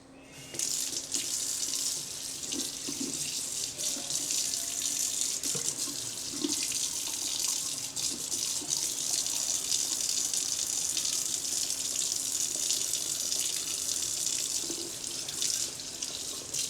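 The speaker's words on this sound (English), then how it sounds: "You gotta clean your shrimp" Shrimp rinsed under a running kitchen tap, a steady close stream of water pouring continuously for over fifteen seconds with faint handling noises beneath.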